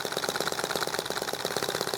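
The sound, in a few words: small EM2 engine running quietly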